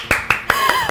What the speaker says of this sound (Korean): 박수가 저절로 나오네요.